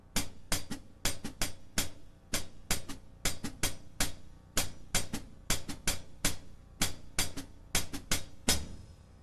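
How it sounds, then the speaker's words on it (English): Two hi-hats, closed and crisp, play together as a busier interlocking hi-hat part in a funk groove, ticking in quick, uneven clusters with accented strokes. The playing is steady, near and moderately quiet. "the two hi-hats together make up a busier hi-hat part"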